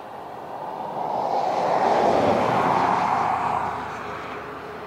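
Airliners taxiing and landing at Portland airport, a distant broad jet roar that swells over a couple of seconds and then eases off, with no talk.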